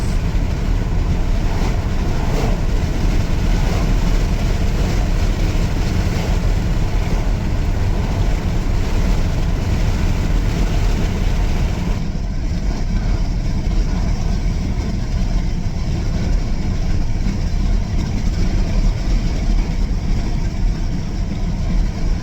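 A Dodge Ram truck engine idles close by, a dense, steady low rumble that holds unbroken for the whole stretch, with a slight change in tone partway through and no talking.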